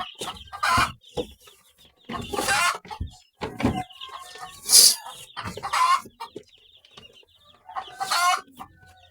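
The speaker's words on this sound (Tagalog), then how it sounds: "Kaingay na ng manok" Chickens cluck again and again in short, irregular bursts at close range, with a few louder squawks breaking through at times. The flock is noisy and busy, and sick birds are being kept apart from the healthy ones.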